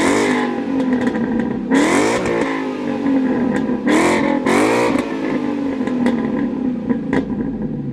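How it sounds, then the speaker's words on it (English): Supercharged 2013 Ford Mustang GT with a Procharger and Flowmaster exhaust revving hard, with repeated sharp throttle blips rising and falling over a rumbling idle and supercharger whine, loud and close. "Listen to that Procharger."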